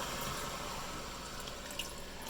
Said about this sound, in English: what I do is I add a cup of water